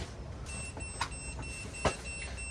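A laser level receiver gives steady high-pitched beeps, with a few soft clicks and taps over a quiet background.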